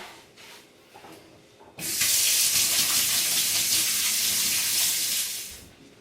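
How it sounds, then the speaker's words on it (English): Hands being washed under a running tap: after a quiet start the faucet suddenly gushes in a loud, steady splashing stream, then tapers off near the end. "the first thing I'm going to do is wash my hands"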